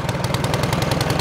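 A Craftsman snowblower engine runs after a cold start with a rope pull, chugging in a steady, rapid rhythm close by, with no voices over it.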